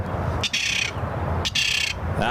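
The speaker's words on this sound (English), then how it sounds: "There's nothing worse than a mad bird." An agitated bird at San Francisco International Airport gives two harsh, squawking calls about a second apart over a constant low rumble of airport background noise.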